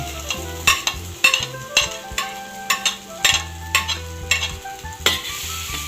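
Garlic frying in a pan for monggo, with steady sizzling and repeated spatula stirs scraping the pan in a loose rhythm, close up with no talking.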